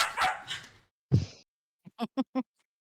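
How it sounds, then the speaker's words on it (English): Several dogs barking at home, a loud burst of sharp barks followed after a pause by a short run of three or four yaps, with no talking over them. "They're like barking and going crazy."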